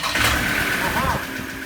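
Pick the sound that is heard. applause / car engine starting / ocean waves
car engine starting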